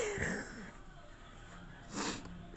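Close, breathy sneezes burst out twice, one at the start and another about two seconds later, with quieter nasal breathing between them.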